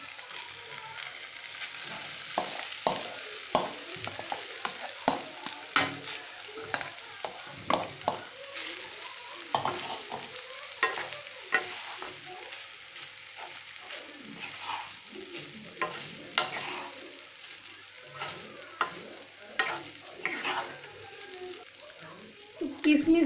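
Rice with chicken and vegetables being stir-fried in a pan: a steady sizzle runs throughout, broken by frequent scraping and clattering stir strokes at a close, moderate level, with speech partly over it.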